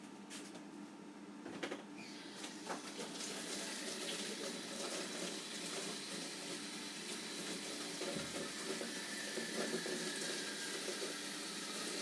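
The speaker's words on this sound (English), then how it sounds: "Now I get to wash my hands." Water runs from a kitchen tap for handwashing, a steady close splashing stream that starts after a few soft clicks and keeps going at an even level to the end, with no talking.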